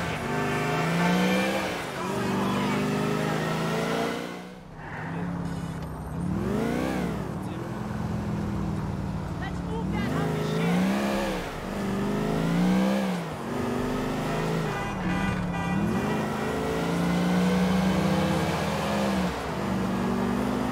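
A car driven through the streets in the GTA 4 video game, its engine revving up and down in repeated sweeping surges, loud and close throughout.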